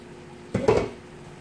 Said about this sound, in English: Go ahead and stir that